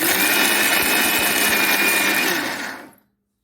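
Mixer grinder whirring loudly and steadily as it grinds cumin, turmeric and green chillies for jackfruit thoran, a continuous motor roar that cuts off near the end.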